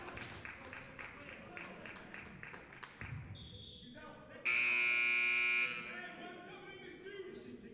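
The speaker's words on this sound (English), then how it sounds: "The buzzer sounds." Amid crowd noise and a commentator's voice at a boys' varsity basketball game, the loud electronic game buzzer blares for about a second, then the arena din continues.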